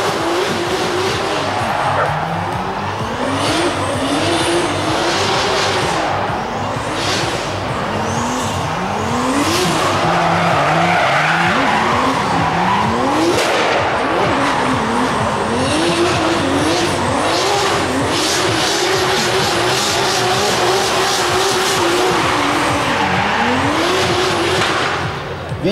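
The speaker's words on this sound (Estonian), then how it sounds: "Ja auto tuleb ka, see on väga hea." Rally car racing along a track, its engine loud and close as it revs through repeated rising gear pulls, with tyre skids and squeals, the engine note climbing and falling again and again over about twenty-five seconds.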